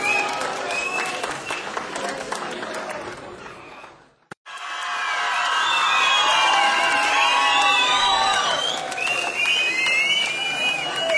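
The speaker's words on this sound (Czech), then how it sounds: "Pořád jim tleskejte" Children and adults in an audience at a regional anti-drug youth contest applaud and cheer the competing teams, with a burst of clapping that breaks off briefly, then a louder sustained wave of applause, whoops and shouts.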